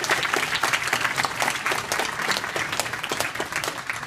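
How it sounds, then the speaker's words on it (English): A crowd applauds steadily, a dense wash of clapping at moderate distance with no voices standing out. "And let's have a good round of applause for Middlebrook."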